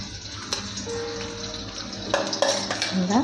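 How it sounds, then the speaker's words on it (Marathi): Onion added to hot oil with mustard seeds in a pan, a continuous sizzle with metallic clinks and scrapes of a spoon stirring against the pan, close and loud. "मोहरीनंतर आपण कांदा टाकला आहे"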